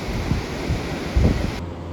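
Wind buffets a microphone in low gusts, with a broad rushing background and a couple of stronger thumps.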